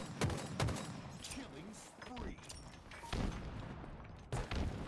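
Bursts of gunfire and impacts in Halo Infinite capture-the-flag play, quick sharp cracks scattered through a busy game mix with voices in the background.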